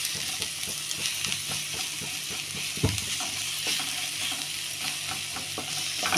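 Cabbage and horse gram frying in spicy oil, a steady close sizzle with scattered crackles and stirring scrapes, one firmer knock near the middle, no voices.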